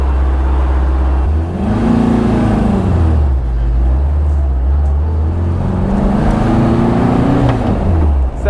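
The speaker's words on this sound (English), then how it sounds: "So this car has a racing clutch in it, and it's not easy to drive." A Porsche 914 race car fitted with a racing clutch drives at close range, its engine droning loudly and rising and falling twice as the revs climb and drop, with a steady rumble throughout.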